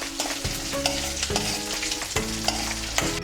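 Tapioca frying in ghee in a pan for kappa payasam, a steady sizzle broken by repeated scraping strokes of a stirring spoon at a regular rhythm, close and fairly loud.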